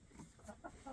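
A brown leghorn chicken gives several soft, short clucks in quick succession, faint and close in a quiet backyard coop.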